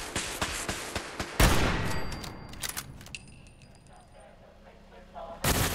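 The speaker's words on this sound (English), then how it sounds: "Oh, it's some freaking turrets." Automated turrets firing in the Nuka-World area of Fallout 4 as a rapid string of sharp shots, then a heavy blast and ringing tones. The noise fades before one more loud burst at the end.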